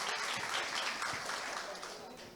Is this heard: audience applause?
yes